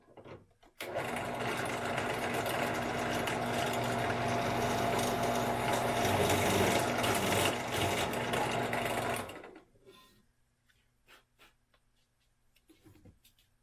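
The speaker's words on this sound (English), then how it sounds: "over to the drill press and we're going to drill out that hole" A drill press boring a hole through a Kydex wallet runs as a loud, steady mechanical whir for about eight seconds, then stops abruptly, leaving faint scattered handling clicks.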